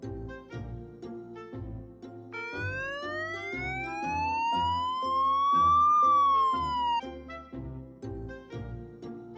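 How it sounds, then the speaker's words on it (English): A police motorcycle siren wails upward and falls back in one long sweep over a rhythmic backing beat, loud and clear. "Police motorcycle."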